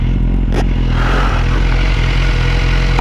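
A BMW HP4 motorcycle riding around Cork city, a loud, continuous engine drone buried in heavy wind rush and rumble from close by.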